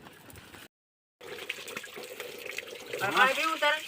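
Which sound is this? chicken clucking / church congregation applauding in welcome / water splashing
water splashing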